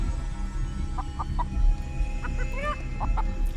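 A chicken clucks in short, scattered bursts in the video game Chicken Feet, over a low, steady rumble of background noise.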